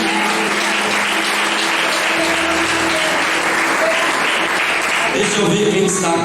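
Church congregation applauding during an evening anniversary service, dense sustained clapping at loud level with a faint voice and tonal music sounding beneath the applause.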